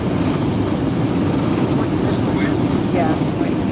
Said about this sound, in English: Yeah, it's windy. It's windy.